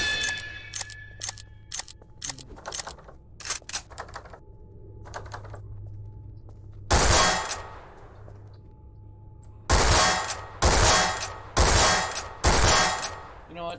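Bursts of gunfire ring out in Garry's Mod on a horror map, starting as sharp rapid clicks and then growing into several loud, dense shotgun-like volleys in the second half.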